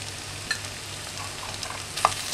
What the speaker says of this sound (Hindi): तो आप इस तरह से इसमें डाल के थोड़ा सा मिक्स कर लें।